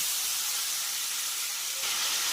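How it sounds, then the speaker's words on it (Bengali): Ginger garlic paste added to a pan with sautéed tomato sizzles in a steady, bright hiss, close and continuous, with no talk. "এবার আদা রসুন পেস্ট দিয়ে দিলাম, দিয়ে এবারে ভালো করে কষতে হবে"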